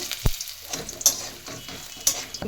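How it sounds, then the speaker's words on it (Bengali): Bori lentil dumplings frying in oil with dried chilli and bay leaf, a close low sizzle broken by a few sharp spatula taps and stirring scrapes. "বড়িগুলো ভেজে নেব"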